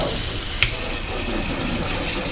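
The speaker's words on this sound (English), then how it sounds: "if you rinse your strainer immediately" Tap water runs steadily and loudly while a small kitchen strainer is rinsed under it in a home kitchen, a continuous close splashing hiss with no talk.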